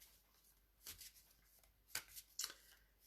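Oracle cards being shuffled and drawn by hand, a few soft brisk riffling bursts and light card flicks, faint and close in a quiet room.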